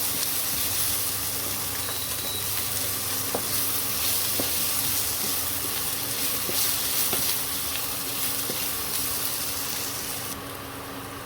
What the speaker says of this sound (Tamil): இப்போ நல்லா சிம்மில் வச்சு வதக்கி விடுங்க. ஒரு 5 மினிட்ஸ் வதங்க வைங்க.